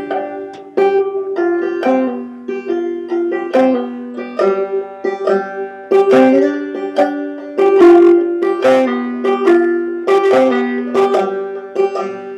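A string instrument plays the City of Refuge melody clawhammer style, a steady run of bright plucked notes with a rhythmic brush-and-thumb bounce, close and solo with no voices.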